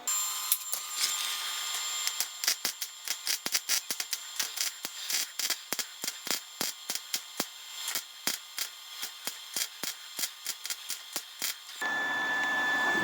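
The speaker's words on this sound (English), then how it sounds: "Tack welding. Well, when I say tack welding, I'm actually spot welding so it doesn't burn through." Spot welding on a 1968-69 Pontiac GTO front fender produces a long series of sharp crackling pops at an irregular quick pace, close and fairly quiet, ending in a steady hiss.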